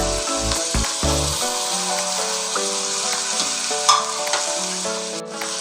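Minced meat with garlic and ginger frying in a pan as tomato goes in, a loud steady sizzle with a few scraping stirs, under a continuous tonal hum.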